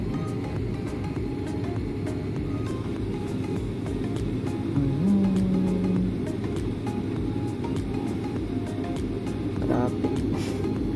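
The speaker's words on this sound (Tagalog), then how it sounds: "Traffic." A steady low rumble of road traffic fills the scene with a constant engine drone, occasional brief tones and faint clicks on top, and no clear voices.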